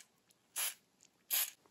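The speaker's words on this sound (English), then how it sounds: "I'm going to spray a little here and there" Two short hissing bursts of spray cleaner hit an arcade circuit board from the Tron cabinet, each about a quarter second long, close and clear against quiet.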